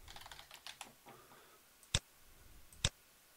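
Keys clatter on a computer keyboard in a quick burst of light taps, followed by two sharp, louder keystrokes after a pause, close and clear with no voice.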